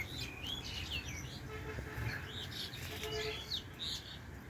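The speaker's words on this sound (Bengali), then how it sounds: "তাদের কিচিরমিচির শব্দ।" Small birds chirp and twitter outdoors in quick, repeated high calls, a lively chorus of chirps scattered throughout over a steady low background rumble.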